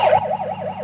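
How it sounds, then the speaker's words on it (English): A coast guard boat's siren wails in a steady, fast up-and-down warble, moderately loud and continuous, with a low engine hum underneath. "That's a Coast Guard boat. Making all those funny noises."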